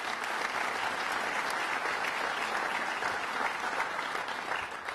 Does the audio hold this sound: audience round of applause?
yes